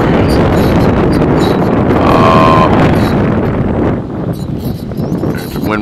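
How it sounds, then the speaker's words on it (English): Strong wind roars steadily across a rooftop where solar panels and a small wind turbine are mounted, with loud gusty buffeting on the microphone throughout and a brief tonal whine partway through. "wind is kicking today."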